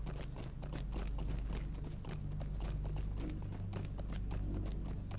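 Hooves of a war steed in a video game beat out a rapid, continuous clip-clop at gallop pace, steady and fairly loud over a low droning hum.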